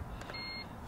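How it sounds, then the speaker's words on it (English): Short electrical beep as a hotwired car's power comes on in a video game, a thin steady tone over a low background hum. "that's the sound of the power coming on"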